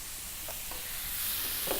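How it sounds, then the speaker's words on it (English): Meat searing in a stir-fry pan gives a steady, soft sizzle and hiss with a few small pops over a couple of seconds. "and so if you look at that, it's searing"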